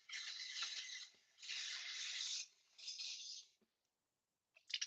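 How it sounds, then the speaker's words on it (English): Buckwheat is rinsed under a running kitchen tap in three short bursts of splashing water, fairly faint, followed by a brief quiet and a small clatter. "I always wash my buckwheat."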